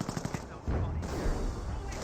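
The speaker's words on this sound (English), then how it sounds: "Grenadiers getting some shots down the rifle grenades." German grenadiers fire rifle grenades in Company of Heroes, a Wehrmacht versus British match, with a quick run of rattling shots giving way to dense, continuous battle gunfire.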